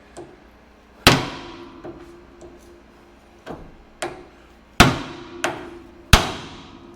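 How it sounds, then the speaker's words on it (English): A hammer strikes a tie rod on a 1976 Ford van, with seven sharp metallic blows, some loud and some lighter, coming at irregular intervals, each ringing out briefly in a quiet garage. "got us a hammer. And let's see how many of these are gonna pop right loose"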